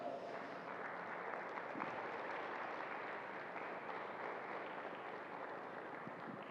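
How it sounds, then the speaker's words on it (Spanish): Sustained applause from a standing church congregation, a dense, even wash of clapping heard at a distance, with no voices standing out. "¿Por qué no le damos un aplauso al Señor así de ganas?"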